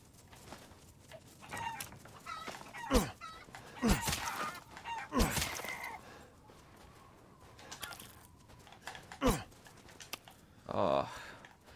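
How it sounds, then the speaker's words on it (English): Chickens in a village scene of Resident Evil Village let out scattered squawks and clucks in short bursts, some loud and close, with sparse talk and quiet background ambience in between. "See, these chickens running around is making all this noise."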